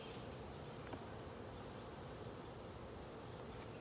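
Honey bees swarm around an open hive during a spring inspection, making a faint, continuous buzzing hum with no voices.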